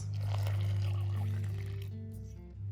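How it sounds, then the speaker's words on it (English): Boiling water is poured into a measuring cup while making homemade noodle dough, a soft steady liquid stream filling the cup, close and fairly quiet, with a slight rise in pitch before it tapers off. "We're gonna be using 3 3/4 cups of boiling water."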